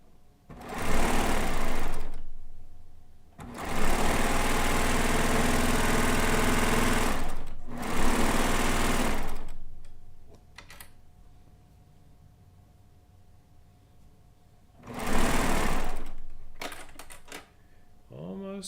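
A sewing machine stitches the inner border seam of a Kaffe layer cake quilt in several loud, close, rapid bursts of a few seconds each, separated by pauses with light handling noise.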